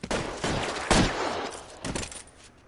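A shootout outside Mallory's Cafe in the game L.A. Noire: three loud, close bursts of rapid gunfire crackle one after another, with no talking.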